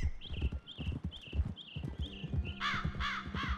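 A crow caws repeatedly in Red Dead Redemption 2, several harsh calls over the close clip-clop of a horse's hooves, with other game sounds layered in.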